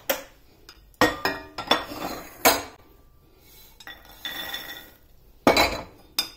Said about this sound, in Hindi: मैं बाउल में ट्रांसफर करने लगी हूँ